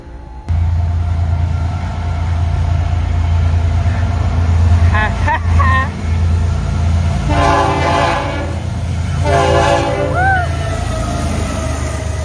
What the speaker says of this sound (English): You get to see trains at the Lakeshore Railway Museum filmed on an iPhone